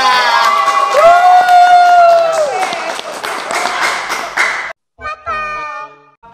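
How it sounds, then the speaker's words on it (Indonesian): An audience at a social media podcast session claps and cheers, with whoops and shouts over the applause before it cuts off abruptly. Voices carry on briefly afterward. "Ayo kita berikan tepuk tangan yang sangat meriah."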